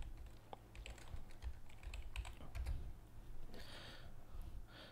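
Steady typing on a computer keyboard, a quick run of close, crisp key taps with a brief burst of faster strokes partway through, no talking.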